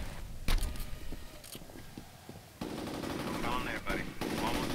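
Turret gunfire in the shooter game F.E.A.R., during an ambush: loud machine-gun bursts with sharp shots, then a dense, sustained rattle of automatic fire.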